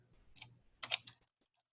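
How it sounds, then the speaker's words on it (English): A computer keyboard is struck in two short bursts of keystrokes, close and quiet, with a brief pause between them while someone types Python commands. "You can also type Python commands very, very quickly,"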